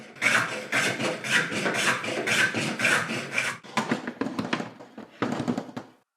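A No. 4 hand plane taking heavy passes on wood makes a run of close, rasping shaving strokes, steady at first, then choppier separate bursts before stopping.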